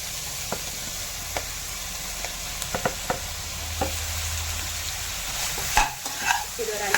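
Five tomatoes sauté in a pan for a paneer butter masala, with a continuous soft sizzle under scattered sharp clicks and scrapes of a spoon stirring, louder clatters near the end.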